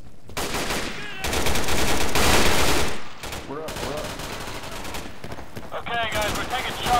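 Bursts of automatic gunfire in the tactical shooter Insurgency during a push on a doorway, sustained loud volleys with brief gaps, mixed with game sounds and some speech.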